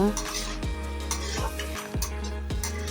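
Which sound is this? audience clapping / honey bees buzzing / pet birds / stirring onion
stirring onion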